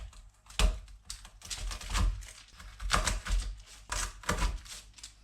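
A knife chops through a slab of caramelised almonds in a series of sharp, crisp cracks spaced about every half second, close and clear with no talking.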